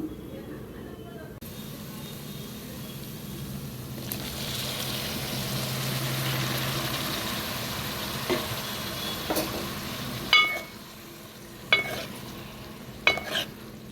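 Cut tomato pieces fry in a pan, a moderate sizzle that swells and holds as they go in, then a few sharp clinks of stirring near the end, with a voice speaking over it.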